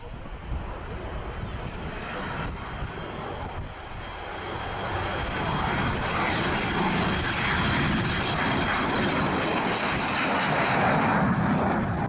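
A de Havilland Vampire jet landing in heavy crosswinds roars past close by, its engine noise swelling from a rumble into a loud sustained whoosh with wind buffeting the microphone.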